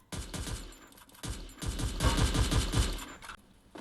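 Rapid bursts of automatic gunfire from shooting at bots in the Free Fire mobile battle-royale game, loud and close, with rattling volleys that swell and continue for several seconds.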